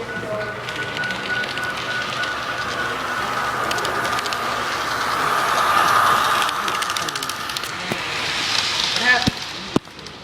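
A long freight train rolls past with a steady, broad rumble and metallic rail noise that swells slightly midway, while people talk faintly over it.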